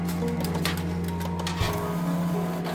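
An Epson XP-970 inkjet printer runs a print job sent from a phone, giving a steady mechanical whir with a constant low hum and faint clicks and rattles throughout.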